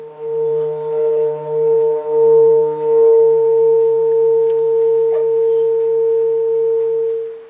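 A steady ringing tone from a rubbed hand-beaten singing bowl, sustained and bright, with its pitch climbing slightly higher as it keeps going.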